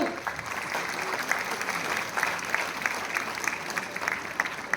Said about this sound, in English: Let us celebrate her achievement with a big round of applause.